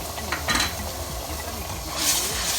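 Chicken gizzards frying in a pan of green pepper sauce while being stirred, giving soft scraping stir strokes over a low, steady sizzle, fairly quiet and close.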